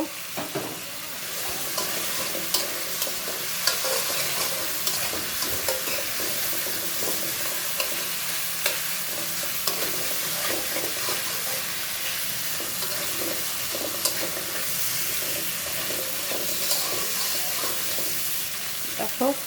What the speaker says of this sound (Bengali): মাছের মাথাগুলো দিয়েও একটু কষিয়ে নিব